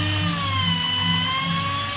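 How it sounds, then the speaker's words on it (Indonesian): An engine valve being lapped into its seat with a powered drill, giving a steady high-pitched whine with a low pulsing drone beneath, close and continuous without pause. "Ini proses skir ya, skir klep."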